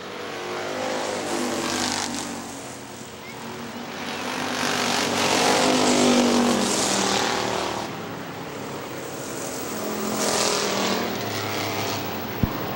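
Factory stock race cars racing at Hartford Speedway Park, their engines a loud, continuous roar that swells and fades as the field passes, with no voices.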